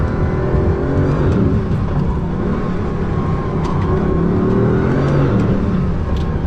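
A Bugatti Veyron heard from inside the cabin under acceleration, a dense, continuous loud engine roar and drivetrain whir that holds steady throughout without a break, with no speech.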